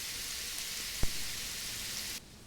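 Carrots, celery and garlic sizzle in a cast iron pan, a steady close hiss broken by one sharp tap before the frying abruptly cuts off near the end.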